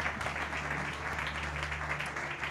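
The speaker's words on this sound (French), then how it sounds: "On peut les applaudir." An audience applauding two speakers at a talk on the energy transition, dense even clapping held steady from start to finish, with a low hum underneath and no voices.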